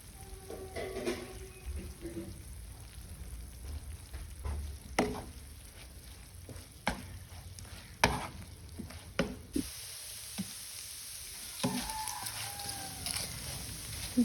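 Beef sizzles in hot oil as it is dry-fried with curry leaves and green chillies, with a constant crackle broken by scraping stir strokes and sharp clanks of a spoon against the pan.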